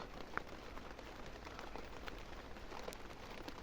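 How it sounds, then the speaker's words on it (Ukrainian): Steady, fine patter of light rain falling on surfaces, soft and even throughout, with no voices. "І дощик ще почався якраз."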